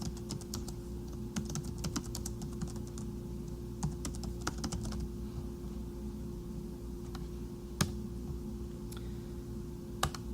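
Someone types on a computer keyboard while entering call notes, with irregular bursts of close, light key clicks over a steady low hum. A few isolated louder taps come later, and nobody speaks.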